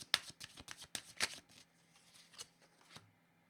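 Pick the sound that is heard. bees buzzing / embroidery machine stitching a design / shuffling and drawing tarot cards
shuffling and drawing tarot cards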